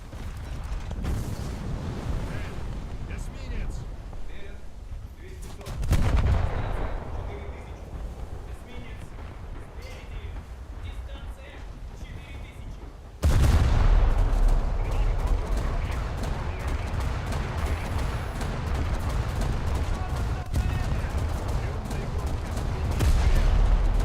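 Naval guns fire during a naval battle in the War Thunder video game, heavy booming bursts and sustained rumble that swell loud midway, with a player talking over the action.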